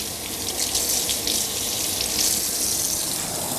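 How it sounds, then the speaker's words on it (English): Tap water runs steadily over a cutting board in a kitchen sink, a constant close hiss and splash throughout with no talking. "Rinse the board off again."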